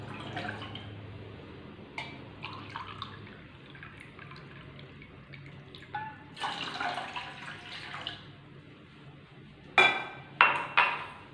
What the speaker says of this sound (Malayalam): അപ്പോൾ ആ ഒരു ഗ്ലാസ്സിൽ രണ്ട് ഗ്ലാസ് വെള്ളം ഒഴിച്ചു കൊടുക്കാം.